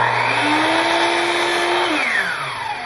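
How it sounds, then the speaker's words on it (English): A power saw, reset to zero, cutting a piece for a DIY parabolic trough solar reflector, a loud whining motor roar with the tone shifting, then winding down as the cut finishes. "put your saw back to zero, flip this completely over, take it all the way to that line"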